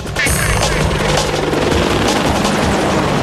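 Loud, dense Apache attack helicopter rotor noise with rapid thumping chop and engine roar, close and steady throughout.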